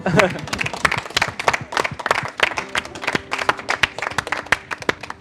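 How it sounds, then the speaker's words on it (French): An audience applauds a team of apprentice shoemakers at a vocational training competition, a close, lively run of many sharp overlapping claps lasting several seconds, with voices mixed in. "On peut vous applaudir."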